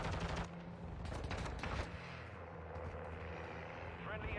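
Rapid gunfire bursts from Warzone 2 multiplayer play, several quick volleys in the first two seconds over a steady rumbling game backdrop, fairly faint overall.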